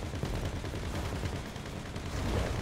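Dense gunfire from GTA 5 runs continuously throughout as a loud, rumbling barrage with no clear gaps between shots.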